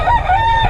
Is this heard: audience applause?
no